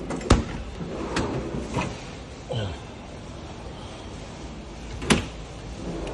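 Toshiba refrigerator drawers in a shop slide open and shut with several sharp plastic clacks and thuds, scattered across a few seconds in a quiet room.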